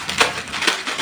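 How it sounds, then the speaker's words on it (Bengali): Maggi instant noodles are snapped by hand, giving two or three sharp, dry cracking breaks close to the ear with brief crunchy rustling between them. "এই যে নুডলস গুলো আগে এভাবে করে ভেঙে নিচ্ছে"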